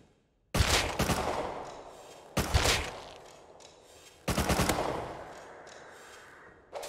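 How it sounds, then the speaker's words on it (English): Three loud bursts of rapid automatic gunfire in a multiplayer shooter, each a sharp cluster of shots followed by a fading echo, separated by quieter pauses. "Oh, they're shooting at someone else"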